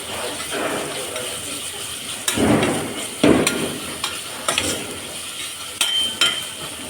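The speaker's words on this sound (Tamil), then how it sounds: "இஞ்சி பூண்டு நல்லா ஃப்ரை ஆகட்டும்." Onion, ginger and garlic fry in a pan for chicken chukka, a steady low sizzle broken by a few louder stirring scrapes and clatters near the mic.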